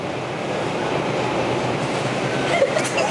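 An R subway train runs with a steady, loud rumble and rolling wheel noise, with some higher metallic squeal near the end; no talk is heard over it.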